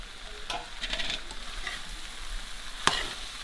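Potatoes frying with okra and onion in a pan, a soft steady sizzle with scattered stirring scrapes and one sharper clink, faint and close with no talk.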